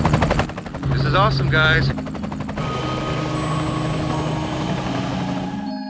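A helicopter lifts off for an aerial tour of Southern California homes, its rotor chop and turbine whine loud and close, while a person speaks briefly over the engine early on.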